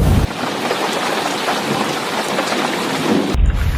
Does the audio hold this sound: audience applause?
no